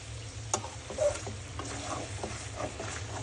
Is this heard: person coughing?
no